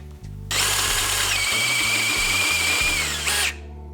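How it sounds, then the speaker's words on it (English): A power drill screams as it bites into metal for about three seconds while making a mount for a 420cc engine on a pit trike, with a squealing bit over a low motor hum, loud and close. "These drill bits ain't happy."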